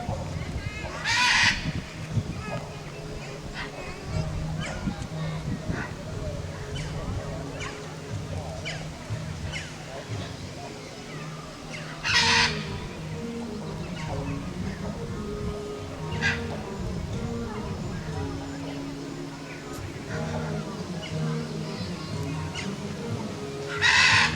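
Birds at a bird show area give several loud, harsh caw-like calls spaced apart over a continuous murmur of crowd noise and talking.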